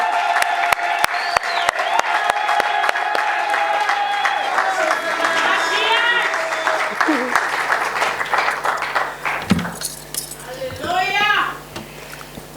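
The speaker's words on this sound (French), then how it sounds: "Pendant qu'elle avance, on acclame le Seigneur très fort." A church congregation claps and cheers loudly for the Lord as the matriarch walks forward. The sustained applause and shouting carry on for several seconds alongside music, with a voice rising near the end.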